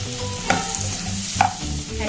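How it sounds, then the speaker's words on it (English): Mushrooms sautéing in butter in a pan: a soft, steady sizzle with a couple of sharper scrapes and clinks of stirring, close and fairly quiet. "Now in a same pan add a thin slice of butter and add mushrooms"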